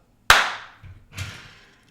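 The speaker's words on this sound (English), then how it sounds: "Alright, I'm gonna clap." A single sharp hand clap rings out close and loud, followed by a decaying tail and a couple of softer knocks or movements after it, in a podcast studio.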